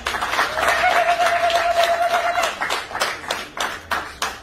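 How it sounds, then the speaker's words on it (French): Guests clapping at a wedding ceremony, brisk rhythmic applause with a sustained whistle or ululating tone over the first half before the clapping thins into scattered claps. "Merci, applaudissez pour le papa."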